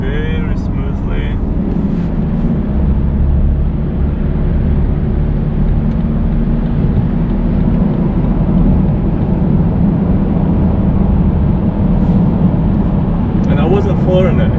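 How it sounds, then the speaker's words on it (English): A BMW 3 Series F30 316d diesel accelerating gently in third gear, heard as a steady, loud cabin drone of engine and road noise from inside the car, with brief voice bits at the start and end. "I'm going to put my foot down a little bit, and as you can see, accelerates very smoothly."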